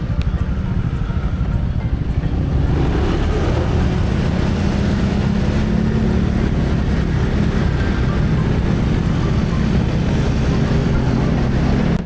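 Four motorcycles ride along at dawn with a loud, steady engine drone and continuous road rumble close by, unbroken throughout.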